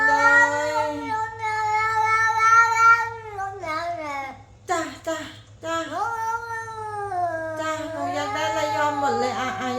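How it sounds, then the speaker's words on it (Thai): A cat meows and grumbles in long, drawn-out complaining calls, close and fairly loud, with a steady low hum underneath and brief human speech between the calls. "ไม่เคยเจอแมวบ่นเลยนะลูกนะไม่เคยเจอแมวบ่น"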